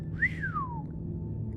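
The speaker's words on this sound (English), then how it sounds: "He whistled." A man gives a single rising-then-falling wolf whistle, clear and close, sweeping up and gliding down over under a second before fading into quiet background.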